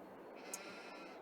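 Sheep bleating in Farming Simulator 22 on the Southern Cross Station map: a single short, faint bleat rising briefly above a low, steady background hum, with no talking.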